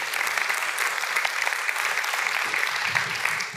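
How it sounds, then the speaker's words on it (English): Audience applause closing a conference talk on autoscaling, a steady dense clatter of many hands at moderate distance, continuous and unaccompanied by speech. "Round of applause."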